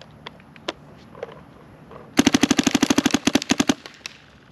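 DSR+ gun from a shooting game fired in a test, about two seconds of quiet light clicks followed by a rapid burst of roughly twenty sharp, evenly spaced shots that stop abruptly.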